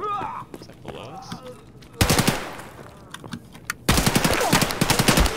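Video game gunfire: two loud bursts of rapid automatic fire, each a couple of seconds long with a pause between, preceded by players talking.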